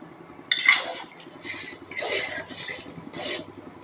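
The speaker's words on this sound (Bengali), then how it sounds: "লবণ একটু নাড়াচাড়া করে নিলাম" A spoon scrapes and clinks against a pot while ginger, garlic, cinnamon, cardamom and salt are stirred together, a sharp knock followed by three or four rasping strokes, close and moderately loud with no talk.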